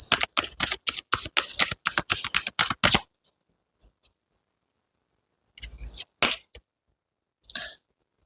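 Tarot cards for a Gemini reading being shuffled in quick, dense riffling bursts for about three seconds, then a pause before two shorter card flicks and a final soft draw, close and fairly loud.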